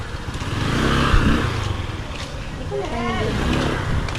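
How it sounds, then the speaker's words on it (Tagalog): A motorcycle engine idling and revving after repair, its steady running drone close by with a brief rise, while people talk nearby. "Ayos na ang motor niya."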